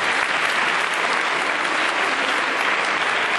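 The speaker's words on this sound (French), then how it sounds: "on applaudit Pauline" An audience applauds a young girl named Pauline as she is introduced, producing a dense, continuous wash of clapping at an even, loud level from start to finish.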